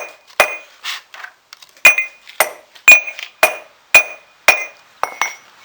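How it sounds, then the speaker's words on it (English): A hammer strikes the point of a gold prill from smelting with flux to knock off slag, giving about ten sharp metallic clinks and pings in an uneven rhythm, close and loud, with no voices. "I'm hitting the point right now, knocking the point down, so it's hopefully knocking that stuff off the top."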